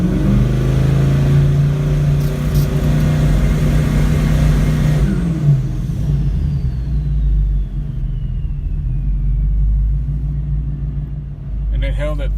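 A Ford Mustang on a transbrake two-step holds a loud, steady rev near the limiter, then the engine drops back to a rumbling idle, with a faint whine trailing off.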